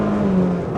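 A Polaris RZR XP side-by-side engine revs hard with a loud, close whine that holds and then dips slightly, mixed with rushing mechanical noise.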